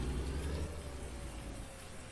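Steady, dense rain from the farming video game Farming Simulator 19 hisses continuously across the whole moment, with no talk over it.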